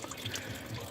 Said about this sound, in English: I'm releasing the water out of the radiator so I can start tearing everything down